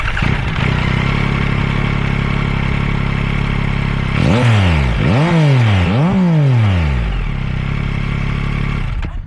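A 2023 Yamaha MT-09 three-cylinder motorcycle engine idles with a gritty, uneven thrum, then revs sharply three times in quick succession before settling back to idle.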